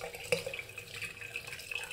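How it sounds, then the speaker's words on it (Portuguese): Boiling water being poured into a drain that was first treated with a little vinegar, giving a continuous close splashing and gurgling pour with a brief sharper splash near the start. "Agora eu vou colocar aqui a água fervente"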